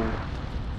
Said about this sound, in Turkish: Patladı gitti ya.